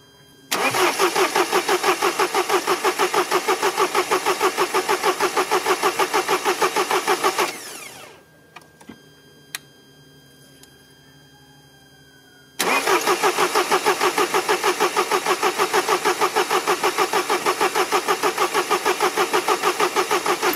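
A Mercedes engine idles with a steady mid-pitched rumble, cuts out briefly with a few clicks, then starts again and runs on loudly. Air is in the fuel injection circuit after replacement of the injection regulating valve.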